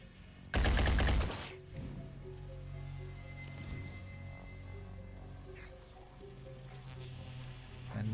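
In the Phoenix Point video game, a single loud gunshot bursts close and harsh near the start, followed by a long quieter stretch of low ambient hum with faint scattered clicks.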